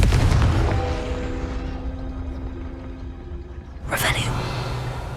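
A Confringo spell blast in Hogwarts Legacy bursts out as a sharp, loud boom after a quieter stretch of game ambience.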